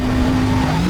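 A race car in Need for Speed Most Wanted speeds along with a loud, steady engine drone and a high sustained whine, no voices over it.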